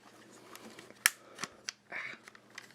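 Plastic panels on a Transformers Shattered Glass IDW Grimlock toy pried open by fingernail, giving a few sharp clicks and snaps, one loud crack near the start followed by softer scraping and fiddling, close and alone.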